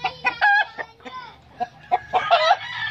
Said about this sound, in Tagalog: Yan, daming manok.